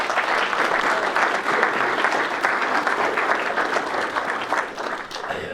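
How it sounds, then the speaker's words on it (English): Wedding guests break into loud, sustained applause, a dense crowd of clapping hands that holds steady for several seconds before thinning slightly near the end. "All that commitment deserves a giant round of applause."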